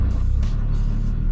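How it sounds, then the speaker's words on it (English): A Nissan GTR idles with a loud, rough low rumble, its transmission giving an uneven rattle and clunking texture close by throughout the short stretch. "this transmission rattles like crazy"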